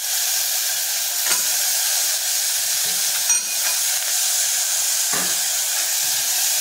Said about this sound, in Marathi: आपण हा धुतलेला बटाटा आहे तो फोडणीला टाकणार आहे